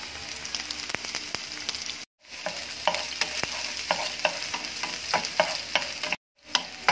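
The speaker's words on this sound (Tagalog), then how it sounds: "Lalaglagan ko to ng olive oil para healthy naman. Lalaglag ko ng ating bawang mga idol." Garlic sautéing in olive oil in a pan for sweet and sour boneless bangus, a continuous close sizzle broken by scraping stirs and utensil taps, with two brief cuts to silence.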